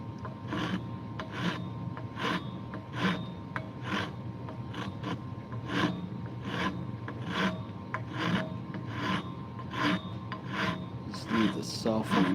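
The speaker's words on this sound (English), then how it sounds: "Can't leave a lot of this shaping to the sandpaper with oak." Sandpaper rubbing back and forth on an oak wood handle being shaped for a flush cut saw, a steady run of close, regular rasping strokes about every half second throughout.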